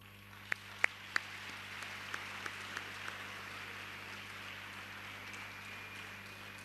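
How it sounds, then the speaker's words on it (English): An audience claps at a pledge signing ceremony for school leavers, opening with a few loud, sharp claps before settling into steady, moderately distant applause that carries on throughout. "I want you to all applaud yourself for this effort thus far."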